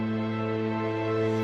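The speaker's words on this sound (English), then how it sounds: "we have sul tasto on layer 1, sounds like this." Sunset Strings sample library playing a sul tasto string layer, a single sustained note held steadily and softly for about a second and a half, close and alone with no talk.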